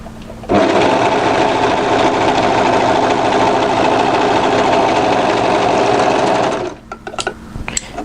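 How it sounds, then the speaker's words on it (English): An overlocker sewing machine stitches a sweatshirt pocket seam in one loud, steady run of about six seconds, then stops, leaving a few small clicks and handling noises. "I'm going to just overlock that together"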